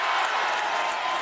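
A high school basketball crowd roars in a gym after a two-hand dunk, a steady wash of cheering and clapping, loud and sustained without a break.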